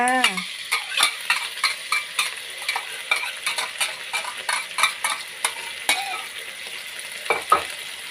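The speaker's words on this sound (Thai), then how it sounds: "ผัดครั้งแรกนะคะ เมนูนี้เพิ่งทำกินครั้งแรก" Canned fish and glass noodles being stir-fried in a pan, with a utensil scraping and clinking in a steady rhythm, about a dozen strokes over a constant close sizzle.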